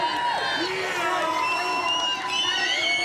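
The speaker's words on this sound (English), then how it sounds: "The crowd cheers him on." Crowd at the Crankworx Rotorua slopestyle mountain bike event cheering a rider with whoops and shouts, a loud continuous roar with high whistles rising above it.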